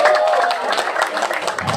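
Students on a school outing at an agro-tourism park clapping for a guest, brisk crowded applause close by that fades slightly toward the end, with a brief faint tonal whistle at the start.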